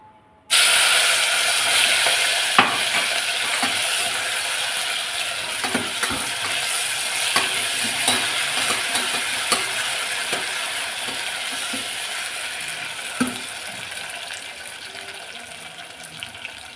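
A stone-pounded ingredient dropped into hot oil and fried for chickpea gravy, starting suddenly into a steady, bright sizzle with occasional stirring clicks and scrapes, slowly easing over time.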